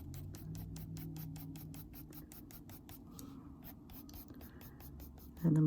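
A pencil makes rapid, evenly spaced short strokes on paper while colouring in a page, a soft rhythmic scratching that continues closely for several seconds and ends with a brief louder rustle.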